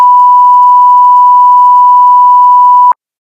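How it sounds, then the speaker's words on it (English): Steady, loud single-tone censor beep held for about three seconds over a name in a casual podcast chat, cutting off abruptly into silence. "Every single name I'm putting, I'm gonna beep."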